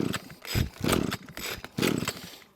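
A line trimmer engine fitted with a cheap Amazon carburetor revs in uneven surges, rising and dropping in three or four bursts, close and rough before fading at the end.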